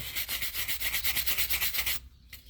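A stiff brush scrubs back and forth in quick, regular strokes to rough down a surface before Dremel work, a close rasping rhythm lasting about two seconds before stopping abruptly.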